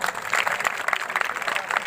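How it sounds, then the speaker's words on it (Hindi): Crowd applauding at a Hanuman temple consecration ceremony in a village, a dense, steady patter of many hands clapping loudly throughout with some voices mixed in. "एक बार जोरदार ताली से अभिनंदन कीजिए"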